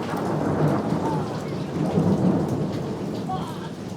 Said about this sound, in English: thunder always comes after lightning